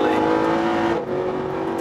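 A Mercedes SLS AMG GT, an uprated racing version, drives on a race track, its engine droning loud and close with a steady tone that dips briefly before carrying on, with a voice faintly mixed in beneath.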